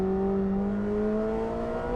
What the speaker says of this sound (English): accessing some of this incredible V8 sound